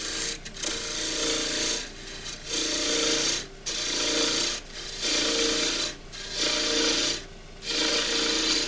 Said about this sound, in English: I'll use the little gouge instead. So finger underneath the rest, and then I can just ease the tool forward.